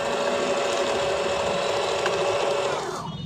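A Singer zig zag sewing machine runs steadily as it stitches, with a continuous close whirring hum that slows and fades near the end.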